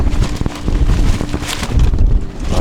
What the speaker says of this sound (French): Le vent se lève vénère là